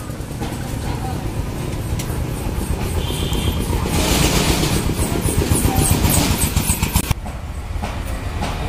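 A Bajaj Discover 125 motorcycle engine running after a new CDI unit is fitted, a steady continuous engine note that swells a little in the middle, then drops back abruptly near the end.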